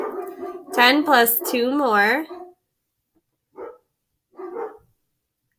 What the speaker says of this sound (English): I don't know if you can hear the dogs, but they're barking in the background.